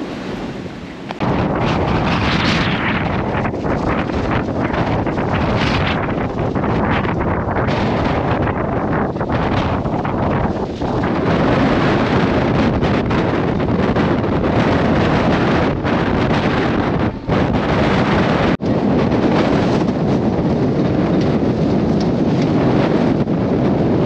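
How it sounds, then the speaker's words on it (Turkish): Strong wind buffeting a boat at anchor off Isla de los Estados, Argentina, a loud, continuous roar with heavy gusts pounding the microphone for the whole stretch. "Rüzgarı da kafadan alıyoruz."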